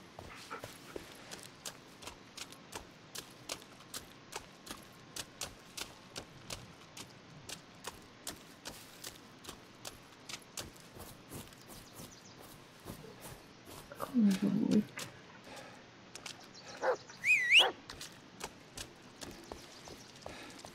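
A dog in the Blair Witch video game whimpers and barks, with short soft sounds ticking steadily throughout and a couple of louder yelps and whines near the end.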